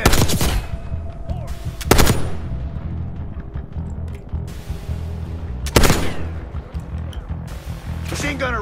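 Gunfire in Call of Duty Black Ops 6 during an office firefight: loud bursts of automatic rifle shots and machine-gun fire with booming reports, separated by quieter stretches where voices call out over the combat.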